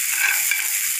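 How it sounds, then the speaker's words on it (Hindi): Cashews and raisins roast in hot fat in a pan, giving a bright, steady close sizzle over a brief moment, with no voices. "अब हम इसमें डाल रहे हैं ये कुछ काजू, वो भी हम रोस्ट कर लेंगे इसी में।"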